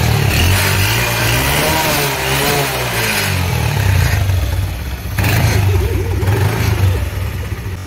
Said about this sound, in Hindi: तो ये अपनी बाइक का साउंड, तो मैं आपको सुनाता हूँ अभी